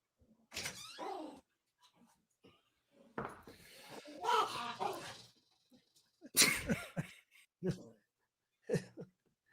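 Dogs bark and whine indoors in intermittent bursts at moderate loudness, with short gaps of quiet and some voice-like sounds mixed in.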